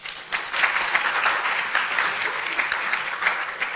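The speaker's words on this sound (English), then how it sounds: "can we give her a round of applause?" A conference audience at a women in environmental sciences event claps warmly for an organiser, a steady, moderately loud round of applause with no talking over it.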